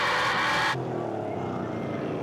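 EuroNASCAR race cars with 5.7-litre engines roar at the Czech Republic round, a loud high-revving engine note that drops abruptly to a lower, steadier drone as the car changes gear or moves away.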